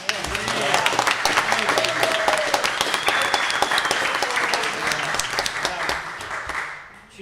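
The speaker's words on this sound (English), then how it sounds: "I'll give him a round of applause." Council meeting audience gives sustained applause of many hands clapping for several seconds before it fades out, with voices talking underneath.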